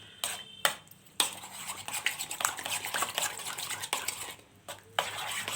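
Milk being stirred into a banana batter in a bowl for Malabar kai pola, steady close scraping and clinking of a spoon against the bowl, with sharper knocks, no talk.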